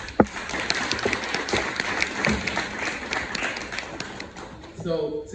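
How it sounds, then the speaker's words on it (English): An audience applauds panelists at a live discussion event on Black men's health, a dense wash of clapping throughout with a few sharper claps near the start, and a voice breaking in briefly at the end. "Can we just do another round of applause for the brothers?"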